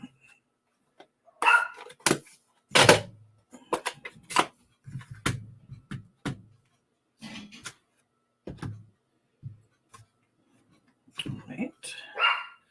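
A neighbor's dog barking outdoors in a series of sharp, irregular barks spread over several seconds, mixed with other intermittent thuds and noises, moderately close.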